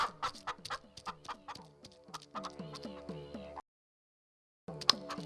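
A hen clucks in quick, repeated bursts, fairly close, then a short silence before another cluck.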